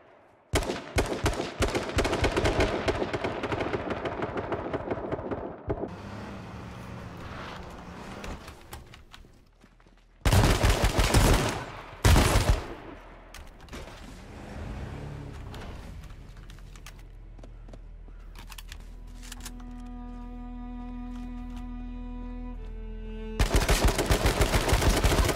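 Rapid bursts of gunfire in the video game H1Z1, dense repeated shots in volleys separated by quieter stretches of game ambience and tones, loud and close, with no talk.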